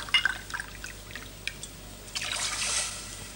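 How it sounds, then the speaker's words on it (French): Water is poured into a pan holding caramelised ham and port, with a few faint drips and trickles followed by a steadier, soft pouring splash close by. "Ajouter 2 verres d'eau, 40 centilitres, autant d'eau que de Porto."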